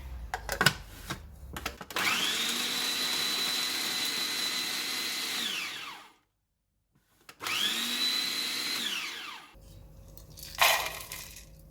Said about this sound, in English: I'm going to start with the pecans. I'm going to use a food processor.